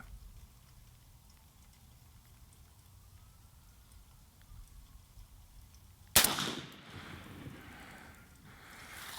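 A single sharp gunshot cracks out at night after a stretch of quiet outdoor background, followed by a brief fading echo and rumble.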